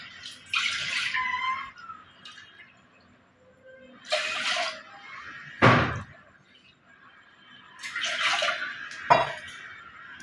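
Water from glasses is poured into a pot for two packets of egg noodles, three separate splashing pours, each followed by a sharp clunk of glass or pot, close and fairly loud.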